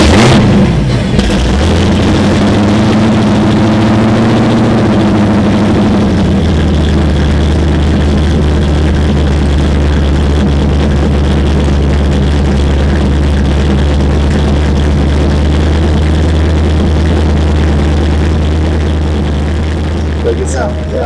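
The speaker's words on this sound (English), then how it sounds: "it's a big block Chevy. It makes lots of noise, especially out of 3-inch pipe" 1931 Ford Model A hot rod with a big block Chevy engine and 3-inch custom stainless exhaust with Flowmaster 3-chamber mufflers, loud deep idle that settles after a brief rev, a continuous heavy rumble with people talking over it.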